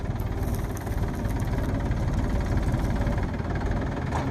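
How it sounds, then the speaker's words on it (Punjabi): A tractor engine idles with a steady, close low rumble and faint knocking during wheat harvest at night, continuous throughout with no pauses. "ਸਿੱਧਾ ਕਰ ਟਰੈਕਟਰ"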